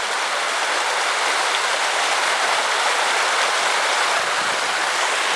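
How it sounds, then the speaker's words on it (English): A river flows beside a walking path, giving a steady, dense rush of water close by for several seconds with no talk. "I love this walk along the river, because you're down the river the whole way."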